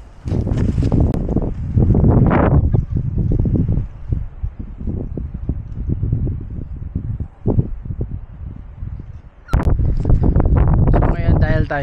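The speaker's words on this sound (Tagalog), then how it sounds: "dito sa part na to medyo mahangin" Gusty wind on a mountainside roars against the microphone in uneven bursts, strong at the start and again near the end, with quieter lulls between.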